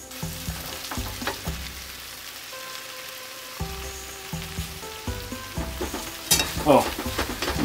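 Potato pancakes with shallots and other ingredients fry in a pan, a soft crackling sizzle broken by repeated low knocks and scraping stir strokes, with a brighter spatter burst near the end.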